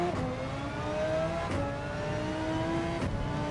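Castrol NSX race car engine in Gran Turismo 7, a steady high whine climbing in pitch through gears with two quick shift breaks, loud and continuous.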